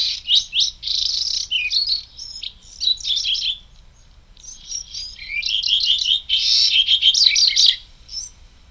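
A young bird sings a harsh, raspy song in repeated bursts of scratchy, buzzy notes, with a short pause midway. The song is fairly close and clear, with no talking.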